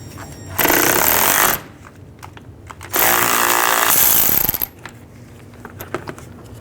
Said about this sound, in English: Now we're going to take these two bolts out,